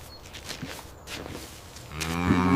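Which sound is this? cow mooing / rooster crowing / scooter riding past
cow mooing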